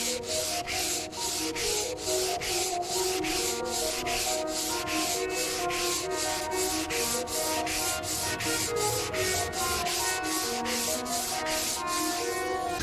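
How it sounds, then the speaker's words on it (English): Steady back-and-forth sanding strips black paint from a widebody Subaru STI body panel, with rhythmic rasping strokes repeating about twice a second, close and continuous, and no voices. "Pretty much sand until all the black paint's gone, and we should be good."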